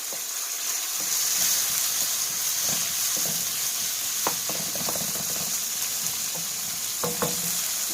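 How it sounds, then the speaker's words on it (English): Hamburger meat, onions and garlic fry in a pan, a steady close sizzle with scattered crackles and a few stirring scrapes, no voices over it. "I'm just going to cook it until these onions are done."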